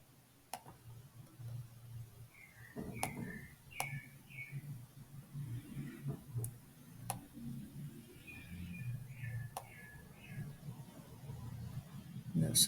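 Sharp mouse clicks from a computer mouse, a handful spaced irregularly over a quiet room background with low hum and faint distant chirps.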